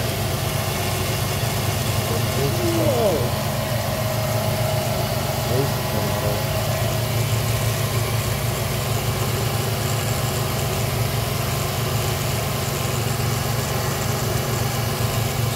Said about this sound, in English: You hear the shoddy compressor there? Or is that the idler down there?